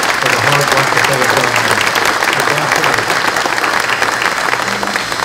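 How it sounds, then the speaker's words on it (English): A crowd at a Fulton County economic development announcement applauds loudly and steadily, dense clapping filling the whole stretch without a break. "Let's give them a big round of applause for the hard work that they"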